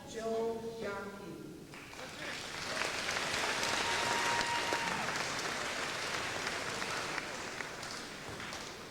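Applause at a high school graduation ceremony rises after a brief spoken phrase at the start and swells into a broad, sustained wash of clapping from a large crowd that carries on to the end.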